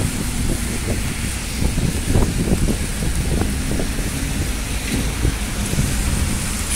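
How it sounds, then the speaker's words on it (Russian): Heavy, steady rain pours without a break, making a loud, dense hiss with a low rumble beneath it. No voices are heard. "Дождь сильный и без перестанки идет."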